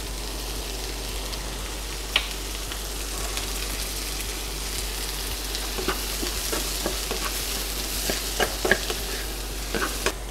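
Chinese-style noodles frying in a little oil, a steady crackling sizzle with occasional spatula scrapes and ticks throughout.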